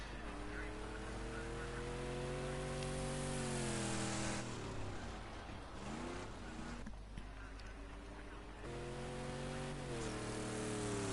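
Race cars lapping during a speedway race, engines droning with rising and falling pitch as they accelerate and pass, while a commentator talks over the steady engine noise.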